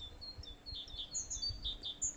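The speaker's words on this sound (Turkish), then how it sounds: "Kuşların sesi." Small birds chirp and tweet in short, high bursts near the coast in Fethiye, several quick calls overlapping over a faint low background hum, fairly quiet and with no speech.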